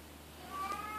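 A Siberian kitten in a box gives a single short, faint meow near the end, close by against a quiet room.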